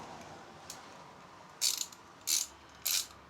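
Ratchet wrench from a tool set, held close to the microphone and clicking in three short, crisp bursts of rapid pawl ticks against a quiet background.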